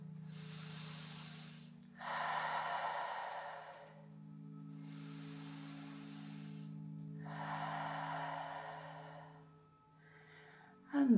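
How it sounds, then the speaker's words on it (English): Slow, deep belly breathing while lying on a yoga mat, four long hissing breaths alternating in and out at a relaxed pace, close and soft, over a low background drone. "Take a couple of breaths, a couple of belly breaths"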